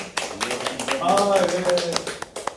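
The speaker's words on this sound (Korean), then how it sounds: "박수 한번 주세요" Scattered claps from a small audience at a history lecture, a handful of sharp hits mixed with a voice talking over them.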